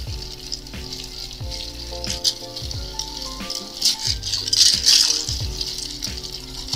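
Ice cubes rattle and clink steadily as a mezcal cocktail is given a long stir, a continuous close churning with repeated knocks against the glass and no talking.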